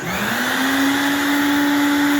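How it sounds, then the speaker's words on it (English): A vacuum cleaner motor runs steadily, used to hold a small car part against a lathe by suction; it spins up with a rising whine in the first moments, then settles into a loud, constant drone. "turn on the vacuum cleaner"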